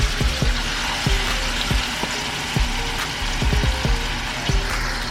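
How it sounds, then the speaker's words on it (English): Meat browning in hot oil in a pan for birria tacos, a constant close hiss of frying broken by sharp pops, clicks and clatters of utensils against the pan. "Once the oil gets nice and hot, you're gonna add the meat to the pan, and you're just gonna let it brown on each side."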